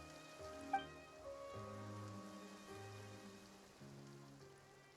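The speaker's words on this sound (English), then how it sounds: "It rained for longer than I suspected." Light rain patters softly and steadily in the video game Genshin Impact, faint beneath a gentle, sustained musical score, with no voices.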